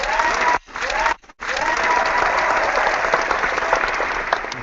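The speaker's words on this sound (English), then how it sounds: "So again, Rob, let's give a big round of applause to our friends." Audience applause fills the clip, a steady dense wash of many hands clapping with two brief dropouts near the start, continuing evenly to the end.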